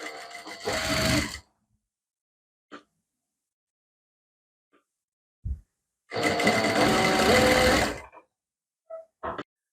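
Sewing machine stitching piping onto a sleeve, heard as two loud bursts of fast whirring stitching, a short one and a longer one, with quiet gaps and small handling clicks in between.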